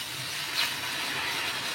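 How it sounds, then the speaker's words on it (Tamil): Water boiling in a pan on a kitchen stove, a steady, dense hiss of bubbling that stays even and fairly loud throughout, with no voices over it. "தண்ணி நல்லா கொதிக்கிறதுல"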